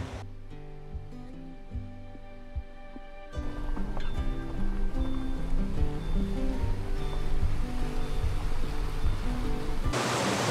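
A river in Georgia's Ateni gorge rushes with a broad, continuous wash that swells after a few seconds, with music playing underneath.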